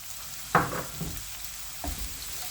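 Chopped onions with cumin seeds frying in a pan, a low sizzle with a couple of stirring scrapes, close and brief.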